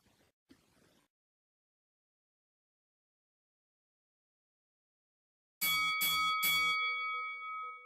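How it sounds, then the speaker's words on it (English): A wrestling match starting bell in the video game Second Life rings three quick loud clangs, its ringing tone hanging on afterward, after a brief muffled stir and a long silence. "there is the bell that signals the beginning of this matchup"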